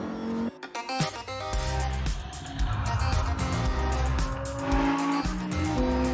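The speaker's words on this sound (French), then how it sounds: "Sur route, c'est impensable une voiture comme ça, parce que vous avez vraiment une voiture de course." Lamborghini Huracán STO sports car driving hard, its engine revving loud and close with sharp gear changes, rising and falling pitch, and brief tire squeal, heard alone.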